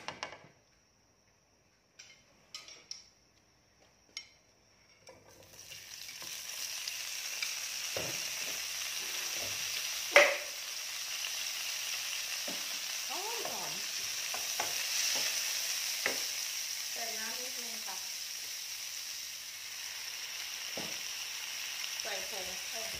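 Vegan stir-fried pumpkin in a pan, starting with a few quiet clicks and taps, then a steady loud sizzle with repeated scraping stirs and occasional utensil knocks against the pan.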